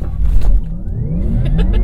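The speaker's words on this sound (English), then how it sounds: "Full throttle now." A Porsche on a driving course goes to full throttle, its engine revving up loud and close with rising pitch as it accelerates hard from a standstill, heard from inside the car.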